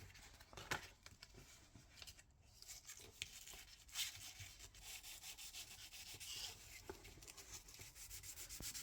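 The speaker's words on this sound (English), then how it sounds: "we are going to wet polish or wet sand this" Micro mesh pads rub back and forth in short, soft strokes while wet sanding a custom metal lock pick, faint and close.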